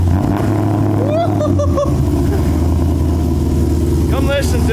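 Camaro fitted with a new aftermarket exhaust starts up and settles into a steady, loud, rumbling idle, with voices of people talking over it throughout.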